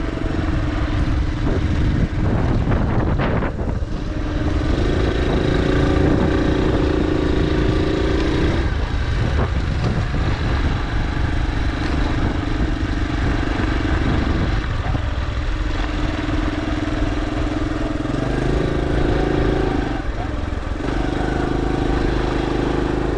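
Motorbike engine droning steadily throughout, loud and close, with rising and falling revs and gear changes; a small DJI Neo drone following it is not distinctly audible over the bike.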